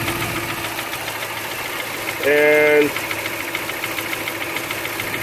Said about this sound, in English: the noise, the knock, is coming from within the engine, and that's a rod knock